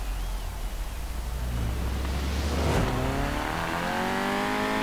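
A small naturally aspirated hot hatchback on steel wheels in Forza Horizon 4 accelerates hard, its engine note climbing steadily in pitch and loudness, close and continuous with no talking.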